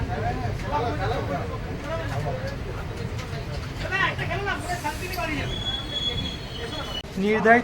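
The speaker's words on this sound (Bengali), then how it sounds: "সময় থেকে এক ঘন্টা চুয়ান্ন মিনিট দেরিতে ট্রেন এসে পৌঁছালো বার্নপুর" Tatanagar–Asansol Express pulling into Burnpur station: a steady rumbling rail roar with rising metallic wheel squeals, while a voice talks over the train throughout.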